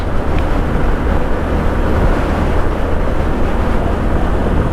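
Honda Super Cub 125 motorcycle engine revving as the throttle is twisted, a steady loud broadband drone mixed with wind rush on the open road.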